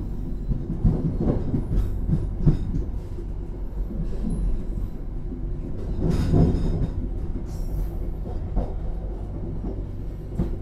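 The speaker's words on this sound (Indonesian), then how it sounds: "Kereta api Argo Merbabu sekarang ini melintas langsung di stasiun Cirebon Perujakan ya." The Argo Merbabu passenger train running straight through Cirebon Prujakan station: a continuous loud rail rumble with rhythmic wheel clatter and brief squeals, strongest around the middle.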